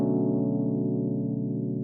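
A sustained minor 9 chord in a particular voicing rings steadily and evenly for nearly two seconds, warm and full with no attack or change, played alone.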